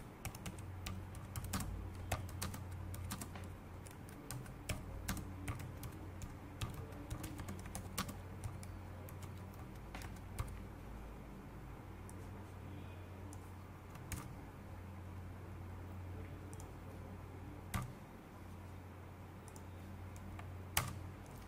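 Typing Python code on a computer keyboard, a steady run of close, quick key clicks with brief pauses, continuing for about twenty seconds with no talking.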